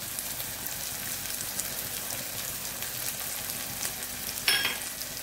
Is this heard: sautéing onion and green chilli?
yes